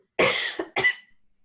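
Two sharp residual coughs from a person recovering from a cold, in quick succession, close and loud, followed by silence.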